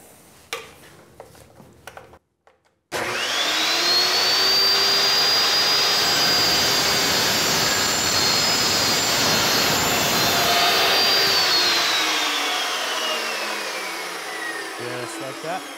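An Evolution cold cut saw makes a 15-degree miter cut through sheet metal in a shop, spinning up with a loud, steady whine that holds for about eight seconds and then winds down, after a few light clicks.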